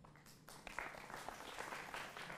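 A studio audience applauds on a Hindi political debate show. Steady, dense clapping runs throughout at a fairly low level, with no voices over it.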